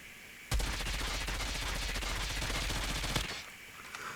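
Sustained automatic weapon fire in the Call of Duty Mobile game, a rapid continuous burst lasting about two and a half seconds that starts and stops sharply, loud and alone.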